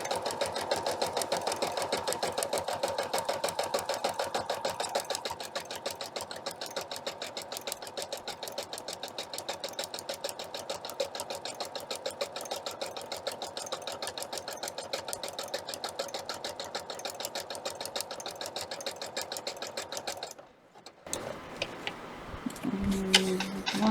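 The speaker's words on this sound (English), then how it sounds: "I'm going to back stitch here too." A sewing machine runs steadily for about twenty seconds, back-stitching a hooded towel in a rapid, even rhythm, then stops abruptly and is followed by a few faint clicks and handling sounds.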